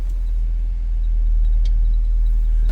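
A 1966 Chevrolet Impala Sport Sedan engine running steadily with a deep, loud low rumble and no clear rise or fall in pitch.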